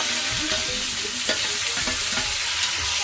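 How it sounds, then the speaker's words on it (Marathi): Onion, garlic, tomato, cashews and masala fry in oil in a pan, a loud continuous sizzle broken by repeated stirring scrapes and clinks. "या तेलामध्ये आपण कांदा हे सगळं भाजून घेऊया"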